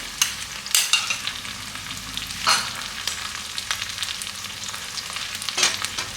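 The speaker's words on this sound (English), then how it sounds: "Once my vegetables are seared for a bit" Vegetables searing for egg hakka noodles, a bright hissing sizzle broken by several loud bursts as the pan is tossed or stirred.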